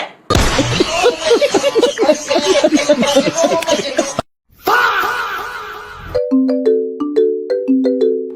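After a stretch of loud, excited voices, a short repeating electronic phone ringtone plays clearly, a simple melodic pattern looping several times.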